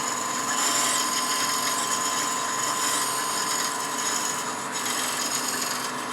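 A D-Way beading tool cuts beads into hard Bradford pear wood on a lathe, giving a steady, close scraping rasp that runs continuously without pause.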